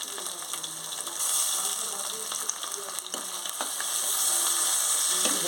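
Chopped tomatoes sizzle and fry in a pan with ginger-garlic paste for mutton keema, a steady close crackle with occasional scrapes of stirring.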